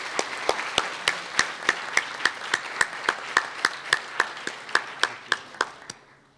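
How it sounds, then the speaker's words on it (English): Evenly spaced claps ring out about three times a second, sharp and distinct, as an audience at an entrepreneurship event applauds in unison before the rhythm fades out at the end. "So let's give them a big round of applause."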